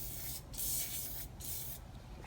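Chrome spray paint hisses from an aerosol can into a cylinder of a 4.8 junkyard engine in two or three close, short bursts separated by brief pauses.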